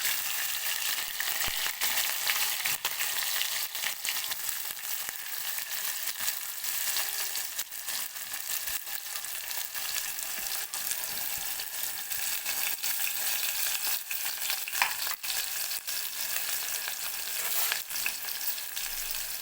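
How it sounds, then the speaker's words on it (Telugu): Chopped green chilli and onion frying in oil, giving a dense, continuous crackling sizzle that holds steady and close throughout. "ఇప్పుడు ముందుగా కట్ చేసుకున్న పచ్చిమిర్చి ఉల్లిగడ్డ ముక్కలు అయితే వేసుకుందాం"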